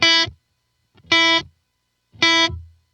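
Three separate guitar notes played through a Line 6 POD Go with reverb switched off, each a bright, slightly distorted tone that cuts off abruptly with no tail, spaced about a second apart in silence.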